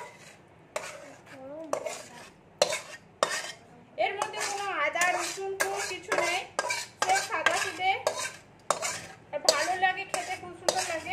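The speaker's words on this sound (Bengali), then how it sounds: "এর মধ্যে আমি একটু ঘি দিয়ে দিচ্ছি, এই দেখুন ঘিটা দিয়ে একটু ভালো করে ঘেঁটে নেব।" A spoon stirs cabbage curry with ghee in a pan, giving repeated scraping clinks of metal on the pan in irregular bursts, while a voice talks over it.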